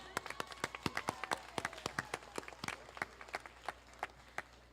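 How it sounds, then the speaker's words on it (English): Scattered, distinct hand claps from a sparse group at a Twin Valley High School class of 2021 graduation, irregular and fairly quiet, with a few faint voices mixed in. "Round of applause for Ethan, everyone"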